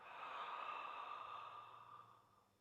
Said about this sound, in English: Inhale, in through the nose. Open mouth, exhale.